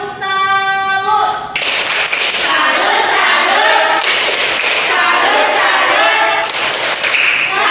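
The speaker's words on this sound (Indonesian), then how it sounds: "Senyum untuk Syifa ya, tepuk salut" A school class claps out a rhythmic 'tepuk salut' cheer for a classmate after her poetry recital, with loud, dense hand claps filling the room alongside children's voices.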